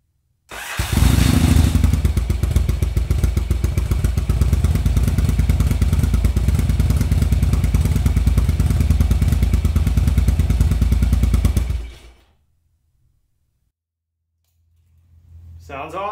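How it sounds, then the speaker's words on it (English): Yamaha XV920 V-twin motorcycle fitted with a custom Harley-Davidson muffler exhaust, idling close by with a steady deep rumble for about eleven seconds before cutting off to silence. "It's not too loud. It's got a nice rumble to it."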